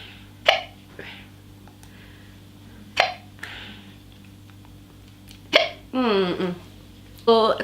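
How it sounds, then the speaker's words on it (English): Hiccups from a woman getting ready, several sharp and sudden hics spaced irregularly. Between them she speaks briefly. "I've got hiccups."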